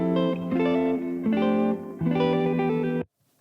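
Vintage-style electric guitar from a sample pack plays three distorted, chorus-washed chords in a row, each ringing out with sustained harmonics before stopping abruptly into silence.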